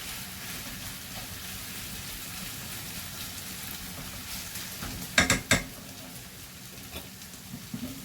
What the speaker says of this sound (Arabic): لان هنايا نخليو الدجاج يطيب، نخلط يطيب مزيان